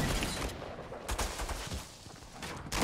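Shotgun blasts sound in the video game PUBG as a few heavy, booming shots spread over a short stretch, close and loud against game ambience.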